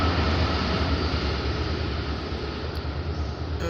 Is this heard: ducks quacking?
no